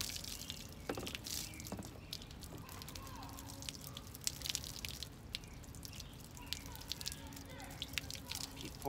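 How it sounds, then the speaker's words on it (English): Water from a running garden hose pours over a dented car body panel, giving a quiet, continuous splash and trickle with scattered drips and small spattering bursts throughout. "Have yourself a running hose on by. Now here this dent, pour it right over that"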